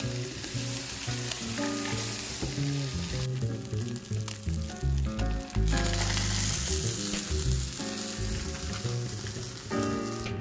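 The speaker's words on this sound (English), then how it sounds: "We're going to sear it in a hot olive oil, skin side down." Redfish fillets sear skin side down in hot olive oil, giving a continuous loud sizzle and crackle with bursts of spattering throughout.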